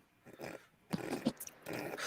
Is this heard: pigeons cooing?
no